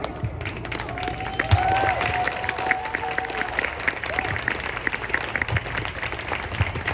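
An audience at a 2021 fall school orchestra concert applauds steadily through the bow as a dense, even wash of clapping, with scattered voices and a few cheers riding over it.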